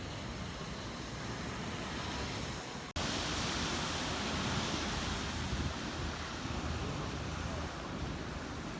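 Ocean surf during a very strong low tide rolls as a dense, steady broadband wash. It cuts out for an instant partway through, then resumes just as full, with no voices over it.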